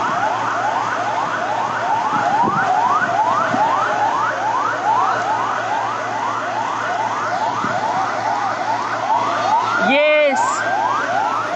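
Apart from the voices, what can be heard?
fire engine and ambulance sirens at plane crash site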